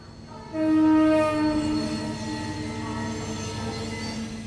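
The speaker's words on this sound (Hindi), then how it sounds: "यही ट्रेन जाती है लखनऊ, हफ्ते में एक बार।" A passenger train bound for Lucknow sounds a loud, sustained horn that fades after a couple of seconds, leaving a steady rolling rumble of the passing cars.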